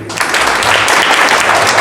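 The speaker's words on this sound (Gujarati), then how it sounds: "અહીંયા જે બધા રહેનાર છે દોસ્તો એ બધાને મારી વિનંતી કે એકવાર તાળીઓ વગાડી દો" Loud, dense applause from a group of residents celebrating the birthday of an institution's director, sustained clapping close by for the whole stretch.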